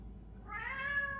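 A house cat gives a single drawn-out meow that rises partway through, close by and fairly clear over a low background rumble, with no talking.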